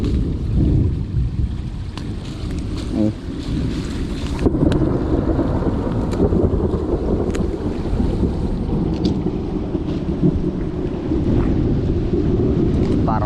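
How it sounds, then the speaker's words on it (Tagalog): Heavy wind buffets the microphone while thunder rolls low underneath, with a steady wash of heavy rain throughout. "may dalang ulan na po yan kulog-kulog at kidul po"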